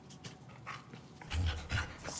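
A dog in the Deadpool video game on PS5 pants in quick, soft breaths, close and fairly faint, with a couple of louder huffs toward the end.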